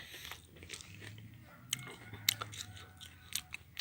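Someone eats spicy snail salad (koi hoi), with soft close crunches and wet chewing sounds in irregular bursts, quiet and intimate with no talk.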